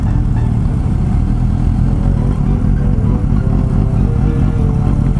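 A Suzuki GSX-S750 motorcycle engine drones loudly and steadily while riding on a group touring run, a constant low rumble mixed with wind noise with no talking.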